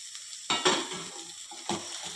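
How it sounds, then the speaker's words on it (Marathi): Chopped ridge gourd tipped into a hot oil tempering with chilli, red chilli powder and turmeric, giving two loud sizzling bursts followed by stirring and frying crackle, close and without speech. "आता या फोडणीत आपण ही कापलेली दोडकी घालूया"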